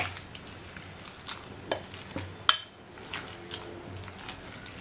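Chicken sandwich filling being stirred and mixed with white pepper powder in a bowl, with soft scraping and stirring sounds and a few sharper clinks, close and fairly quiet, with no talking.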